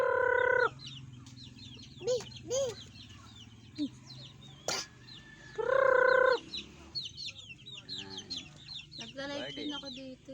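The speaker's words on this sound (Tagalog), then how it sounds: "Ayan guys, yung mga manok namin." Farmyard chickens cluck and squawk in short bursts at close range, with occasional louder drawn-out calls and faint scattered voices in the background.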